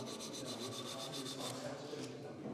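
Rhythmic rasping strokes of sanding on a wooden dowel during wood turning, quick and repetitive at close range, with no talking.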